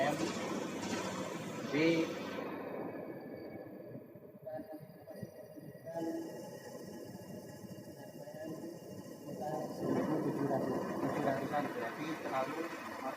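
Fuel-injected motorcycle engine idling at a slightly high speed during injection setup, a steady low mechanical hum running throughout under a man's speech.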